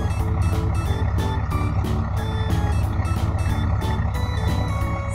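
A car carrier truck reverses with a loud, evenly spaced series of electronic reversing beeps, about two per second, over a constant low engine rumble.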